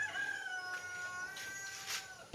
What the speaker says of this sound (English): The rooster says it's time to wake up.